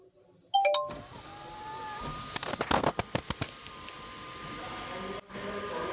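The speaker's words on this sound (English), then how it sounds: "This is how the sunroof opens with voice assistant." MG ZS EV sunroof sliding open on a voice-assistant command: a steady electric motor whir inside the cabin, punctuated by a run of sharp mechanical clicks and thumps as the panel moves. A brief synthetic voice may be heard at the start.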